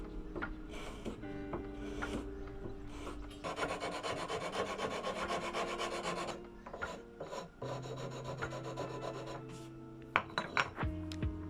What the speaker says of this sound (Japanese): 接着が完了したらのみカンナ紙やすりを使って余計な部分を削っていきます。